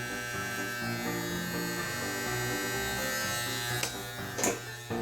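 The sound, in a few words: Andis T-Outliner electric hair trimmer running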